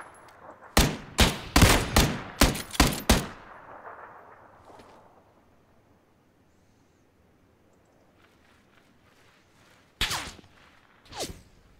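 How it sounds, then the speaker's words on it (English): Bursts of video game gunfire: a rapid string of about seven loud, sharp shots in quick succession, then a long quiet stretch before two more isolated shots near the end. "He's shooting at you."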